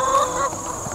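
Crowded chickens on a pasture poultry farm give a brief burst of overlapping squawks and clucks, close and fairly loud.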